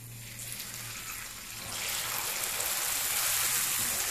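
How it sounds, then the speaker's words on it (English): Water pours into a pan of cooking moong dal halwa, a steady rushing hiss that swells louder halfway through and keeps flowing evenly to the end. "Now we are at a stage where we are gonna put the water."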